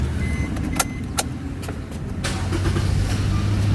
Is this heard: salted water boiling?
no